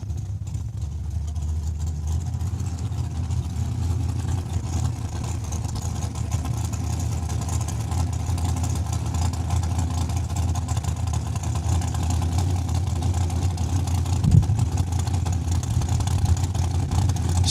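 A drag race car makes a test run at Saskatchewan International Raceway, its engine a steady, fairly loud drone heard at a distance across the strip, holding a constant rumble throughout.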